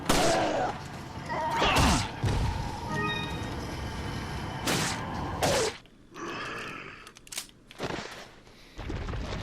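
Pistol gunfire in Resident Evil 4 rings out as a few loud, sharp shots spread unevenly across the stretch. Grunts, groans and clattering game sounds fill the gaps between the shots.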